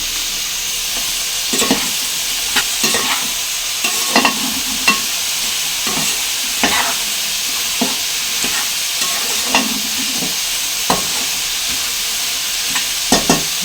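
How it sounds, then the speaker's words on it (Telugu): Ridge gourd pieces, added after sliced onions have softened, fry in hot oil in a pan with a steady hiss, broken by scattered scrapes and knocks as they are stirred. "ఇప్పుడు బీరకాయ ముక్కలను వేసుకుందాము."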